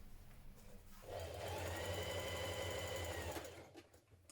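A sewing machine runs steadily for a few seconds while stitching trouser waistband facing pieces together, a close, even mechanical whir that starts and then stops, with no talking.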